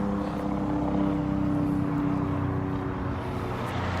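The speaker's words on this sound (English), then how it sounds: "let the helicopter pass" A helicopter passing over a city sidewalk, a steady mechanical drone with a low rotor hum that holds at even loudness throughout, with no talk.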